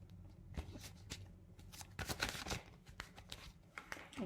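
A deck of tarot cards being shuffled by hand at close range, with repeated riffling and flicking bursts in an uneven rhythm and soft handling noise between them.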